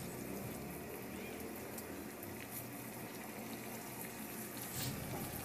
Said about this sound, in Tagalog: Magdagdag ako ng kunting tubig.